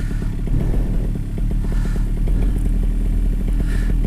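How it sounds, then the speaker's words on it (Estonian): A two-stroke-style paramotor engine idles steadily on the ground before a paraglider launch, a continuous rough mechanical drone with faint rattles, loud and close throughout. "Mootor töötab."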